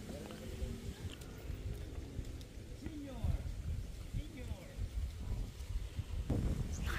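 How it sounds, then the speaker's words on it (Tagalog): Strong wind gusts buffet the microphone outdoors at a home construction site in the Philippines, a continuous low rumble that rises and falls, with faint voices and rustling underneath. "Lakas ng hangin."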